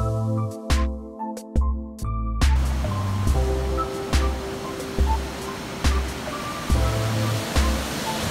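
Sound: waterfall on the Cross River near Duluth

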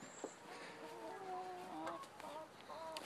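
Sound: chickens clucking

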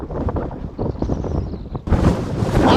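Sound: strong wind blowing at bridge construction site

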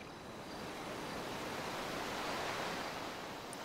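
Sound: ocean waves on beach in video game GTA 5

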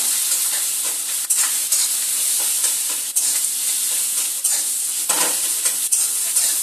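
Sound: fish roe sizzling as water hits hot oil

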